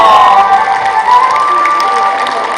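Alumni audience of a girls' high school association general meeting clapping and cheering together, a steady close wash of applause with scattered voices throughout.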